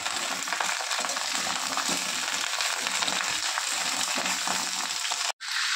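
Ridge gourd fries in oil in a pan, a steady loud crackling sizzle with stirring scrapes throughout, close up, cutting off abruptly near the end.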